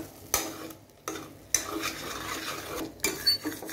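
Eggs are stirred and scrambled in a hot pan, with quiet sizzling broken by several sharp scraping strokes of a spatula against the pan, close and intermittent.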